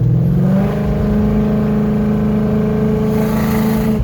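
A Coyote-swapped Ford Fairmont with a 6R80 transmission revs in third gear with the torque converter unlocked, its loud, close engine note climbing smoothly and holding at a sustained high pitch for several seconds.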